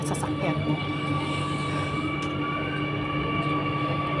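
An MRT Circle Line train running, a steady loud rumble with constant tonal hum and faint clicks, heard from inside the carriage without pause.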